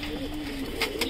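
Pigeons cooing in a loft, a low soft coo close by, with faint rustling and a couple of short sharper noises near the end.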